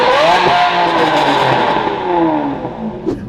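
A 2014 Aston Martin V12 Vanquish engine revs loudly up and down, a smooth, high-pitched screaming tone with rising and falling sweeps.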